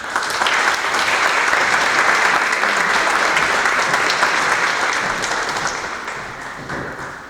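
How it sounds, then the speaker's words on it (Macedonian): An audience at a literary gathering gives the readers loud, sustained applause: dense clapping from many hands fills the hall, then eases slightly toward the end. "Ќе вас замолам за еден громогласен аплауз за нашите читатели."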